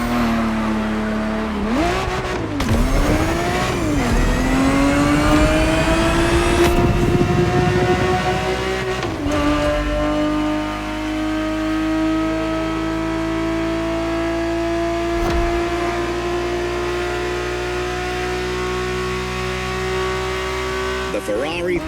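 Ferrari 365 GTB4 engine in The Crew Motorfest, a steady loud drone with rising and falling revs early on, then a sustained high-rpm hum under continuous music.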